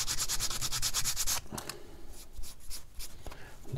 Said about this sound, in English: So I'll just get a little bit of sandpaper,